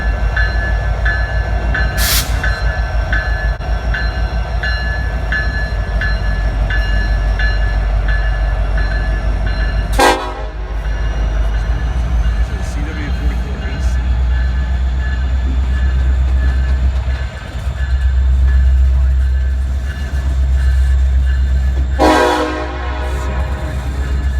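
A CSX freight train led by an SD70ACE with a CW44AC locomotive rumbles past loudly and close in Kansas City, Missouri, its horn sounding several times over the steady roll of wheels and engines.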